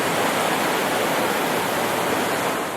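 Sam's Creek in the Great Smoky Mountains rushes close by in a loud, steady broadband roar of flowing water, with no voices over it.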